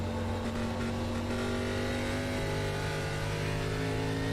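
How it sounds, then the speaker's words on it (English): A race car engine in an NSRL Grand National Series race at New Hampshire holds a loud, steady mid-pitched drone as the driver feathers the throttle through a turn. "Based on the sound of that engine, you can tell that Don's beginning to feather the throttle a little bit as he gets back on the gas"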